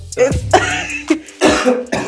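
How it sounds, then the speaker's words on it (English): A person coughs on saliva in a few harsh, close bursts spaced over about two seconds, sounding like a sputtering, choking throat-clear with no words spoken. "I think he's coughing on saliva"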